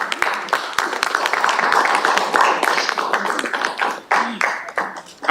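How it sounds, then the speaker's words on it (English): Audience applause at a city council legislative committee meeting, a dense patter of many hands clapping steadily for several seconds, fairly close and moderately loud, thinning toward the end with a few scattered claps. "I promise y'all don't have to clap for me."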